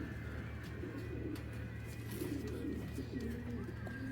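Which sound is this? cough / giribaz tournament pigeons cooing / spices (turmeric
giribaz tournament pigeons cooing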